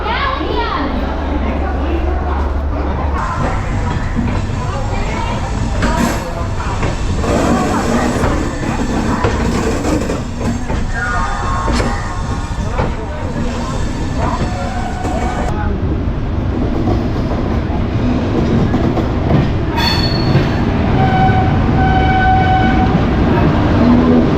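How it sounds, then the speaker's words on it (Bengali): Saraighat Express pulling out of Howrah station in India: steady rumble of the moving train and rail clatter, with a horn sounding, under constant chatter of people and children nearby. "মাত্র এক মিনিট দেরিতে আমাদের ট্রেন ছেড়ে দিল"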